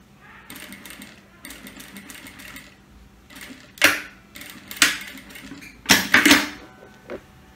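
A sewing machine stitching polyester thread with a size 16 needle while sewing a baby burp cloth, running in several short mechanical bursts that get louder toward the end, separated by quiet pauses.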